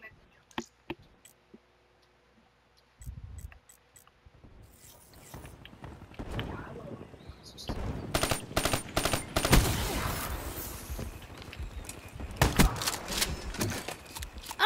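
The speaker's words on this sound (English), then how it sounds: "Bringing back the drum gun effect." Rapid bursts of drum gun fire from Call of Duty: Black Ops III, clicks and scattered shots giving way to dense, loud automatic volleys in the second half, with sharp clustered cracks near the end.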